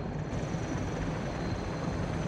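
A helicopter hovers close by with a heavy load slung beneath it, giving a steady, dense rotor and engine roar that holds even throughout without breaks.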